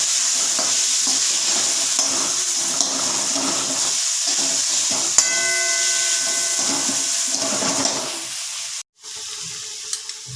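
Tomato chutney with ginger-garlic paste stirred in a pan, spoon scraping through the thick sizzling mix in steady strokes; a short clang lands midway, and frying hiss continues throughout with a brief drop near the end.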